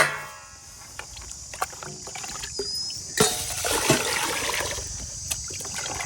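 Rice being washed in tap water in a home kitchen: trickling, swishing water with intermittent splashes and a louder pouring surge midway, close and with no talk.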